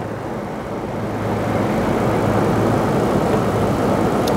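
A car engine idles steadily after being jump-started with a 12V booster pack, a continuous low rumble that fills the scene, loud and close, with no voices.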